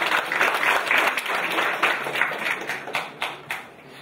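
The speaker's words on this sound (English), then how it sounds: "Let's give him a round of applause as he makes his first introduction." An audience at a company product presentation claps loudly and close by for a presenter coming to the stage. The applause is dense at first, then thins into scattered, fading claps toward the end.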